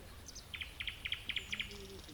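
A nightingale sings during a quiet morning of fishing, repeating bright, evenly spaced paired chirps and then a brief whistle, alone and moderately near.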